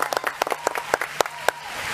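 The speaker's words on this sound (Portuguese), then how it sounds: "bota palmas" Scattered, uneven claps from a small studio audience during a Brazilian football debate show, a handful of sharp individual hand claps spaced irregularly over a short stretch rather than full applause.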